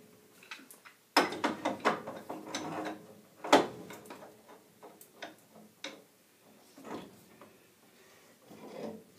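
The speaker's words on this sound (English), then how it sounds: "now we're back to the pipe wrench and spun wrench." Pipe wrench working a fitting on a residential furnace gas valve, giving a series of sharp metallic clicks and ratcheting scrapes, loud bursts early then lighter intermittent ticks, with no one speaking.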